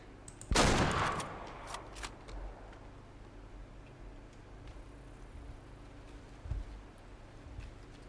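A single hunting rifle shot in Way of the Hunter rings out loud and sharp, trailing into a fading echo over quiet outdoor ambience, with a few faint thumps after.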